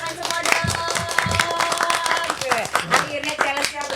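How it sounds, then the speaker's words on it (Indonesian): A small group claps for a band during a casual podcast session: light, scattered clapping heard under continuous talking. "Tepuk tangan buat kalian semua dong."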